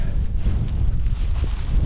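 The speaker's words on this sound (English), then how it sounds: "Oh, it's windy." Gusty wind buffeting close to the microphone at a wild camp, a low rumbling roar that rises and falls in short bursts, with no talking.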